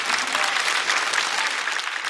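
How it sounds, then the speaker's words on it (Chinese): Studio audience applauding a stand-up comedian on a comedy show, a dense, steady wash of clapping held at even loudness throughout with no voices on top. "再次掌声送给陈曦"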